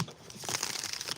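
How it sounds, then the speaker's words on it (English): A deck of tarot cards riffled and shuffled during a reading, a dense crinkling patter of card edges that fills the moment, close and moderately loud with no talking. "That was a good shuffle."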